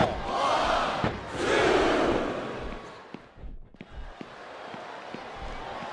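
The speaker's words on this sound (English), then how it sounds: "This capacity crowd is making their opinions known tonight." Arena crowd noise from a WWE SmackDown vs Raw 2007 women's tag match, a loud swelling roar with cheers and shouts that surges twice, then thins into scattered calls and bursts over a quieter stretch.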